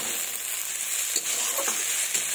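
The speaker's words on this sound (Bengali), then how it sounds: "এবার ভালোভাবে নাড়াচাড়া করবো।" Beans and chopped tomato sizzle in a hot pan under a constant bright hiss, with a few soft scrapes as they are stirred.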